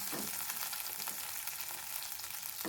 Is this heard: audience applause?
no